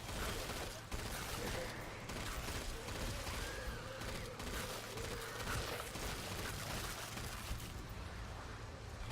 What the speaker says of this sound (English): Oh, the cryo gun.